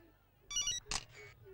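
A phone ringtone in a Telugu film scene, one short electronic ring burst followed by a second brighter tone, fairly quiet against low background noise.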